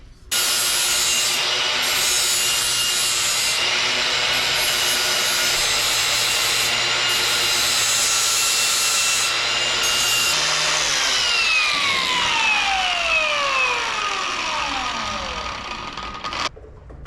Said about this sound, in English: I must grind off the galvanizing, and then we can spot weld it